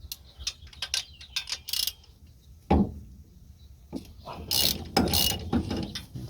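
A ratchet wrench loosens driver-side bolts on a 1970 Chevrolet C10 truck, giving close clicking bursts of rapid ratcheting with short pauses and metallic clunks between strokes.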